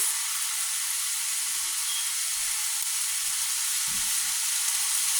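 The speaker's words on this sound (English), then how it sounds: "We're going to add our shrimp back into our vegetables." Shrimp sizzle and fry in a pan with vegetables, a steady bright hiss with a couple of soft stirring clunks.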